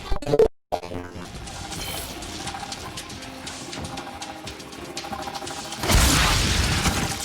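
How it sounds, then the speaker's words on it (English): Rumbling, clattering debris tumbles down after an explosion in the video game Warframe, a dense mechanical wash rising into a louder crashing burst near the end, with no voices. "They're useful detritus falling from the explosion."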